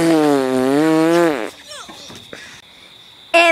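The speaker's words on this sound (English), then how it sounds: "Here, of course, the most embarrassing fart." A comical fart sound effect from a TV-style commercial for an anti-gas remedy: one long, loud, wavering tone lasting over a second, followed by softer scattered noises and a brief burst at the end.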